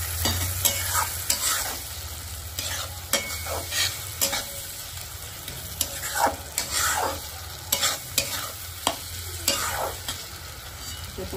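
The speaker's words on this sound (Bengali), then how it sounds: "এবার মোচাটাকে দিয়ে দিলাম। এটাকে ভালো করে কষিয়ে নেব।" Chopped banana flower stir-fries in a hot pan, giving a continuous frying sizzle broken by regular scraping strokes of a spatula, close and moderately loud.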